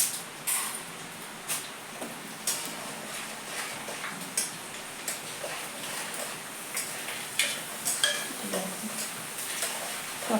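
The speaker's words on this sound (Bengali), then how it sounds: "আজকে করবো দেখো মোটা দানার সাবুগুলো একটু ভেজে নেবো" Large sago pearls frying in hot oil in a wok give a steady sizzle, broken by repeated scraping and clinking strokes of a ladle against the pan at an irregular rhythm.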